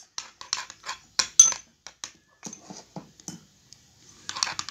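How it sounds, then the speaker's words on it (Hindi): A spoon clinks and scrapes against a bowl while an egg is mixed in for a homemade skin-tightening face remedy, in uneven bursts of tapping with short pauses, close and fairly quiet. "थोड़ा सा हमें गाइस इसमें एग डालना है। इसको हमने कर लेना है अच्छे से मिक्स।"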